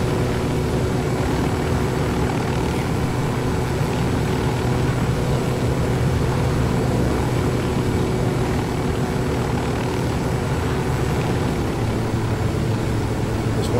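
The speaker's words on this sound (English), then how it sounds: "Let's hope this helicopter makes it." A helicopter flies in the Ghost Recon Wildlands video game, its rotor and engine producing a steady, continuous droning hum at even volume for the whole stretch, with no talk over it.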